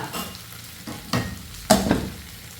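Potatoes roasting in a hot pan sizzle steadily up close while a spoon scrapes and stirs them in a few distinct strokes.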